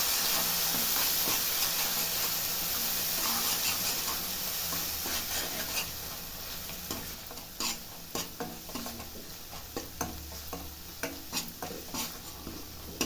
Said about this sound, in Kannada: ಮಸಾಲೆ ಸ್ವಲ್ಪ ಹಾಕ್ಬಿಟ್ಟು ಒಂದು ರಸಿ ವಾಸನೆ ತನಕ ಫ್ರೈ ಮಾಡ್ತೀನಿ